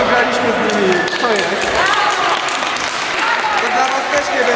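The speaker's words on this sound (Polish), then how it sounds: "To Iskra Kublice, brawa" Crowd clapping for the Iskra Kublice team at a youth sports tournament awards ceremony, continuous applause under overlapping voices and shouts nearby.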